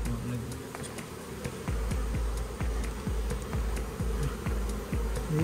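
Honeybees buzzing inside a house roof, a steady dense drone close by with repeated sharp ticks and taps from work on the roof, and a voice talking over it.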